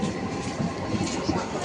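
A local train pulls into the platform at Garia railway station with a steady close rumble and rattling wheel noise that fills the whole brief moment.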